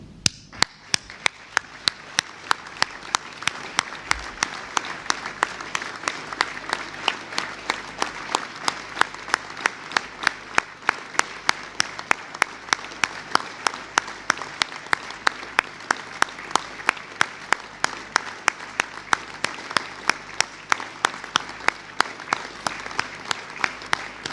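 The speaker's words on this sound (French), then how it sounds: "en nous levant et en participant à 1 minute d'applaudissements" A standing audience at a chamber of commerce New Year gathering claps for police and firefighters, a sustained crowd applause that settles into loud rhythmic unison clapping beating steadily about twice a second throughout.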